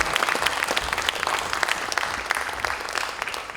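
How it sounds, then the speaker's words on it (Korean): Lawmakers at a party caucus general meeting give sustained applause, brisk steady clapping from a room of people that tapers slightly at the end. "큰 박수 보내주십시오."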